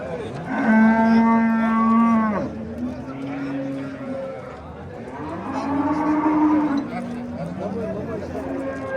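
Cows at a busy livestock market in Oqdaryo Yangiqurgon let out two long, loud moos, separated by a lull of murmuring market noise and background voices.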